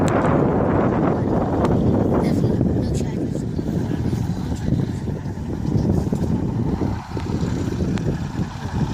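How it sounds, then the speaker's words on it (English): A John Deere 720 tractor pulling a sickle bar mower through tall hay gives a steady, loud low rumble with wind noise over the microphone. Someone talks over it throughout. "Says it starts easy, it runs easy, and it's just a good tractor"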